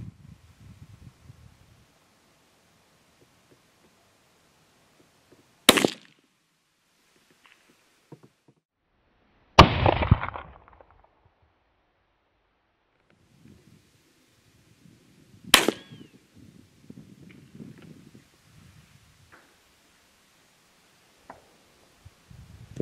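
Three sharp, loud .17 HMR rifle shots from CCI A17 ammunition, fired while hunting in an open grassy field, each cracking out alone with a short fading tail, spaced several seconds apart amid faint outdoor rustling.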